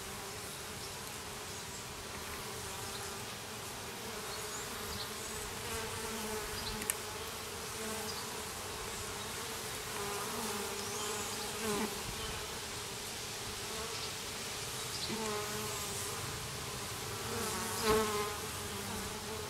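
Honeybees swarming around open hive frames with foundationless comb, a dense steady buzzing hum filling the air, close and continuous without speech.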